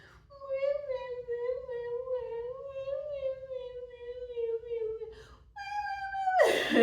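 A cat named Perk cries and whines in a long, wavering, drawn-out meow, followed by a shorter plaintive cry, close and fairly quiet in a calm room.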